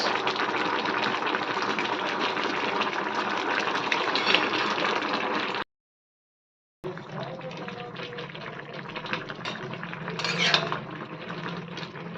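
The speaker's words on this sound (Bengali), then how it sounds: "এখন এই দেখো ফুটে উঠেছে এবার দিয়ে দেবো মাছ" Cooking liquid for a snakehead fish and radish curry boils hard in a pot as the fish goes in, a dense bubbling hiss close by with faint pot clinks, breaking off briefly in the middle before resuming.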